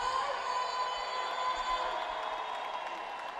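A roller derby crowd at the 2014 World Cup, USA versus England, fills the space with a steady, broad roar of cheering and applause, sustained evenly throughout with no individual voices standing out.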